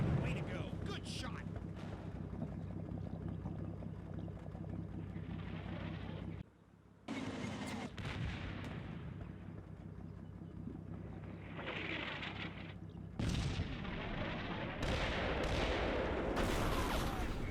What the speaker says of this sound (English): Our tank sees straight through the smoke and nails the M60 in the face.